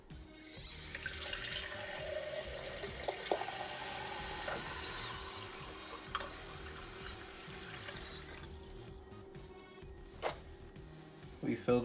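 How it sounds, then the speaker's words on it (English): Water runs from a tap into a glass with a steady rushing pour that then trails off, followed by a few light clinks and soft background voice. "We fill the glass with water,"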